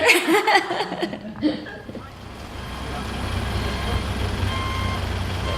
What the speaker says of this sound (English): a truck pulls up full of fish